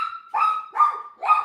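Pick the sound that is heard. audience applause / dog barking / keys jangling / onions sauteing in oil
dog barking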